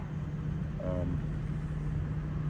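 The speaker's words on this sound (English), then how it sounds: "During the day, there is quite a bit of road traffic noise around here, as you can tell." Road traffic passes near a campsite at Algonac State Park, a steady low rumble of vehicles with a brief higher tonal whine, fairly distant and continuous.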